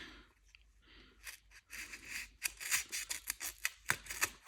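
A budget Bibury multitool blade cuts through stiff plastic packaging in quick crackling, snipping bursts that speed up and grow louder, close to the listener, with no talking.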